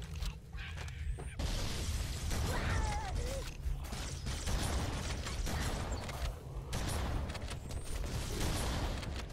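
Grenade blasts and gunfire in the video game Halo CE, a dense, continuous barrage of explosive bursts and rattling combat noise that stays loud throughout.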